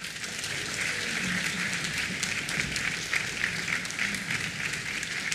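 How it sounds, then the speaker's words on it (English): An audience gives a sustained round of applause for a speaker, dense steady clapping from a crowd that fills the whole stretch at moderate level. "So if you could give a big round of applause for Andy."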